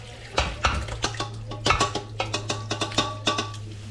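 Soup being ladled from a very large cooking pot, with a rapid series of metallic clinks, scrapes and knocks of the ladle against the pot over a steady low hum.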